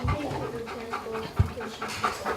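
A police dog pants rapidly and rhythmically close by, with a small whimper and a thump partway through, over faint background voices.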